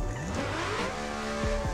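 A Chevy race car in the Assetto Corsa game revs hard with rising engine tones, and its tires squeal and slide near the end, loud and close with no talk.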